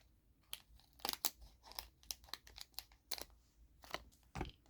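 Scissors snip and cut through the plastic and paper packaging of a monthly nail-art subscription box, a run of close, sharp crunching and crinkling bursts in a quiet room.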